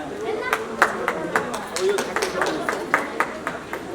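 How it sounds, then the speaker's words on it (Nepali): Scattered audience clapping at an honour ceremony for a Nepali TV serial, sparse individual claps in an uneven rhythm, moderately near, with a voice speaking over them. "तपाईँहरूको जोरदार तालीको पनि मैले अपेक्षा लिएको छु।"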